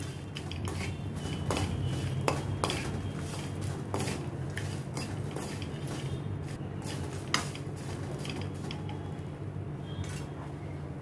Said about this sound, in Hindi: तो शुगर को भी मैं मिक्स करती हूँ।